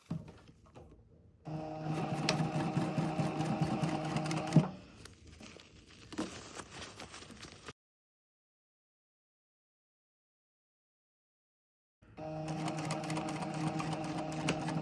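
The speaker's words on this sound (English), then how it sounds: "Just try as much as possible to sew the waistline close." A sewing machine stitches along a skirt waistline beside an invisible zipper, running in a steady loud whir with short stops and starts, then going quiet for several seconds before resuming.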